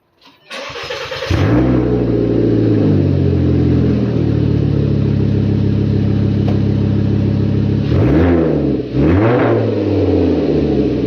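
A Volkswagen 2.5 litre engine with upgraded exhaust tips starts up and idles with a deep, steady rumble, then blips the throttle twice in quick revs near the end, loud and close.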